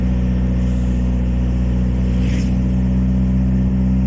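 Motorcycle engines running on a mountain road near Antipolo, a steady loud drone with a brief rising pass around the middle, no talk.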